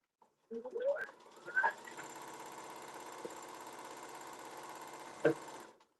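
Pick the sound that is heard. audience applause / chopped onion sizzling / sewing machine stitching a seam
sewing machine stitching a seam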